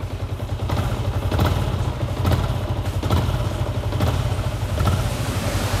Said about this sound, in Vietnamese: Mình nghe tiếng máy nha các bạn.